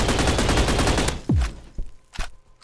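Rapid automatic gunfire from the Roblox shooter game Energy Assault rattles in a dense burst for about a second, then a few separate sharp shots and impacts follow with brief gaps between them.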